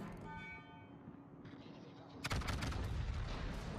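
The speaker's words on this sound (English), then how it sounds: "Firing a long range to the Kurfürst." Long-range naval gunfire in World of Warships: muffled cannon booms rumble under a faint voice, then a louder rolling salvo bursts in partway through, heavy and sustained.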